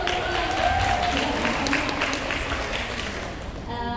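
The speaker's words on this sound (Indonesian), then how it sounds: "Tepuk tangan dong" Audience applause at a national seminar as a Japanese-language speaker is introduced, a dense, steady clapping texture lasting the full four seconds, fairly loud and continuous, tapering slightly near the end.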